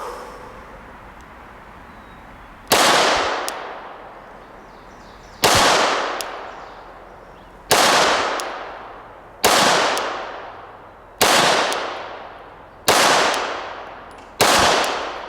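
A Vickers edition Glock 17 fires 147 grain hollow point reloads at a range, seven loud sharp shots spaced a couple of seconds apart, each followed by a long reverberant decay, with no talking.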